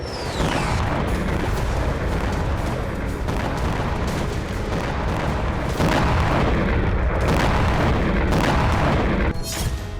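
Heavy artillery fire and bomb blasts from the Russia-Ukraine war front, a dense, continuous roar of booms and explosions filling the whole stretch, loud and sustained with repeated bursts and no voices.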